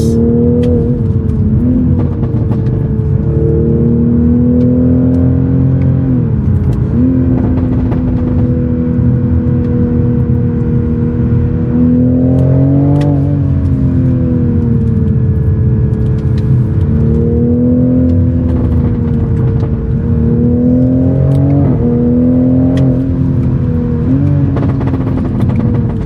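A Toyota Supra revs hard and climbs through its gears, a loud, steady engine roar that rises and dips with each shift, with occasional pops and gurgles from the exhaust.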